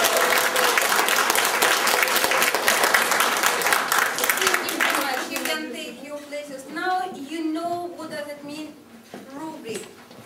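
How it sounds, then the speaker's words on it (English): School assembly audience applauding students and teachers with dense, loud, steady clapping for about five seconds, then fading as speech takes over. "let's clap very strongly to the team of students and to the team of teachers"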